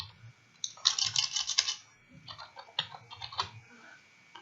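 Typing on a computer keyboard in an office setting, a quick run of close, crisp key clicks in bursts with short pauses between them.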